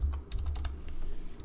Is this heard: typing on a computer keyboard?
yes